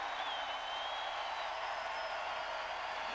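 Crowd applause at a celebrity softball game, a dense, continuous wash of clapping heard from a distance and fairly faint, without a break.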